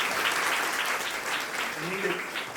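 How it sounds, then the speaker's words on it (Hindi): A crowd at a public dialogue event claps steadily in a dense, distant-sounding wash, with a voice briefly rising over it near the end. "सब लोग ताली तेजी से बजाइए"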